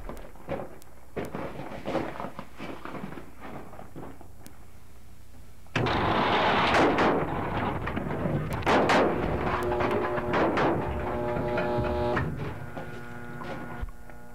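Gunshots ring out at a shooting house with targets about 13.5 feet away, a quick series of sharp cracks, some in rapid succession, recorded up close with a constant background hum.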